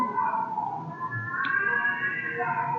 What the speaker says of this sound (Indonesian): Suara ini apa nih? Kucing. Apa kucing ini?